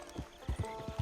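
Horse hooves clip-clop in Red Dead Redemption 2, a quick run of about five close, distinct hoofbeats on the ground at a steady walking rhythm, with no talking.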